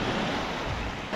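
Waves wash onto a Lake Ontario beach in a steady, broad rush of surf, with some wind noise, and no voices.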